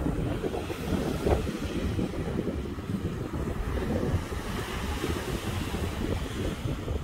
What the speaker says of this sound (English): Check out these Great Lakes waves.